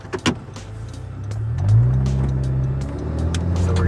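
A 10th-generation Honda Civic pulls away on the road after a couple of short clunks, its engine note rising into a steady, loud acceleration drone heard from inside the car.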